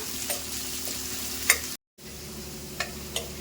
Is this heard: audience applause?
no